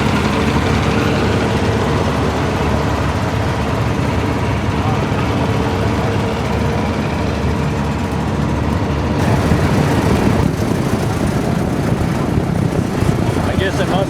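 A small John Deere 50 tractor engine runs steadily at a vintage farm show, a broad low rumble continuing throughout with other engine noise around it, its tone shifting slightly toward the end.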